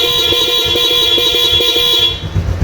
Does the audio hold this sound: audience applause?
no